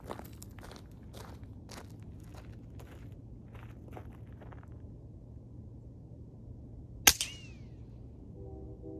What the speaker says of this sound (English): shoot the suppressor, These are the Federal Automats